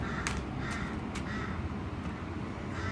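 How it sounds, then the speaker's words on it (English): Crows caw a few times in the background, faint and distant, over a steady outdoor hiss. "I suppose it's appropriate in a tarot card reading, Scorpio, to have crows in the background."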